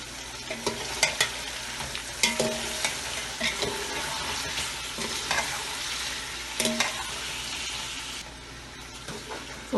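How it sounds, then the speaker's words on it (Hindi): Chicken fries in a pan for yakhni biryani, a steady close sizzle broken by repeated scraping stirs of a utensil against the pan. "जब तक चिकन हमारी भून रही है।"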